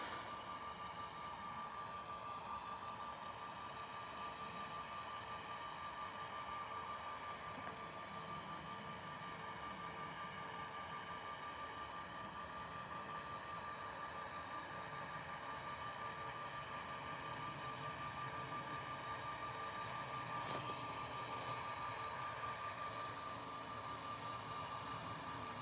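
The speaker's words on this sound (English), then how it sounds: "this is another departure from EasyJet. It is the Airbus A320neo" EasyJet Airbus A320neo departing Liverpool Airport, a faint, distant, steady engine drone with a sustained high whine running through it for the whole stretch.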